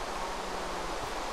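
Steady rain falling in the video game Survival Island, a constant hiss of broadband patter that is loud and even, with no voices over it.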